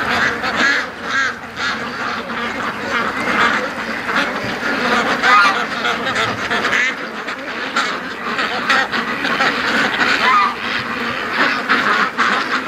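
Ducks kept for raising quack busily at a lake, with loud, close, overlapping calls and honks that continue throughout.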